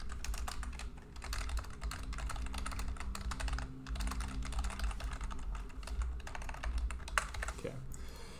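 A computer keyboard being typed on in a steady burst of close, quick key clicks that runs for several seconds with only brief pauses.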